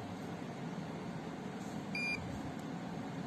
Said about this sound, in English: I will push the syringe then a beep sound will come at that time stop injecting